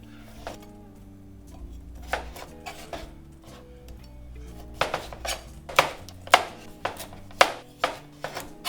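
Pumpkin being cut into a section and peeled on a cutting board, with a run of sharp knife chops and scraping taps that grow louder and denser, set over steady low background music.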